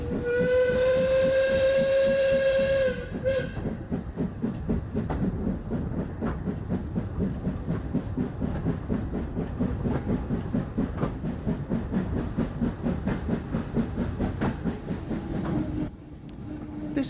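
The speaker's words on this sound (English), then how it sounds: "the train starts up the incline, and as the full weight of the coaches is felt by the engine," A steam locomotive labours up an incline hauling coaches on a historic railway line, opening with a loud steam whistle blast, then a steady run of heavy, rhythmic chuffing and hiss that continues close and strong.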